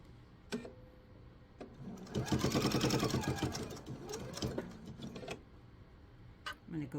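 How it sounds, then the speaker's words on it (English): A sewing machine stitching a laptop sleeve toward a corner, a close mechanical whirring run of a couple of seconds that slows and stops, framed by small clicks and handling noises. "I'm going to sew until I'm into the corner right there on my corner"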